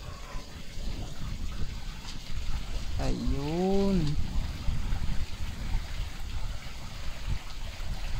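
Water streaming down a newly built grotto waterfall, a steady close rushing and splashing that runs the whole time while someone speaks briefly over it.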